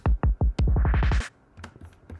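Drum and bass kick drums hit three times, then speed into a fast roll while a high-cut filter dips and a snare sweeps upward in pitch. After the sweep it cuts off into sparse, quieter drum hits.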